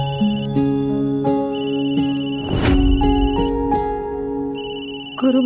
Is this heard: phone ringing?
yes